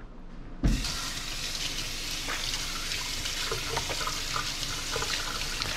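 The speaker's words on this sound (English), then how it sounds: "I'm gonna wash my hands up." A kitchen tap turns on abruptly and runs steadily as hands are washed beneath it, a close, continuous rushing hiss with faint splashes that lasts to the end.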